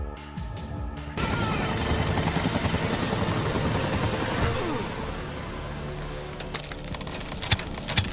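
In an action scene from the film The 6th Day, a helicopter roars as a steady, loud, rumbling whir under heavy mixed noise, then fades toward the end among scattered sharp sounds.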